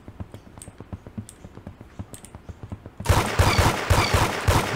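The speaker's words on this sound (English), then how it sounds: "never fan fire at long range, because none of the bullets will hit" Rapid fan-fired gunshots in Roblox Arsenal: a quick run of sharp, moderately loud cracks, then a denser, louder burst of rapid fire in the final seconds, with no talking.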